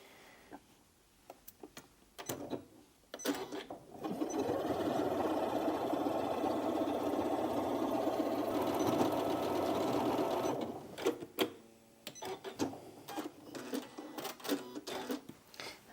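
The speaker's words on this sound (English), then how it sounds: "This machine's got a powerful motor in it, so it has extra needle penetration to get through these thicker types of fabric." A Janome Memory Craft 9480QCP sewing machine runs a long straight stitch through thick fabric, its steady motor whir lasting several seconds between brief ticks and clicks of setup at the start and end.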